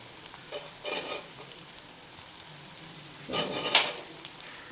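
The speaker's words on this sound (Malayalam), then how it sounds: "ഇനി നമുക്ക് ഇതിലേക്ക് നമ്മുടെ കൊഞ്ച് ആഡ് ചെയ്ത് കൊടുക്കാം." Fried prawns tossed into rice in a hot pan, a soft, fairly quiet sizzle with two louder bursts of stirring and frying, no talking.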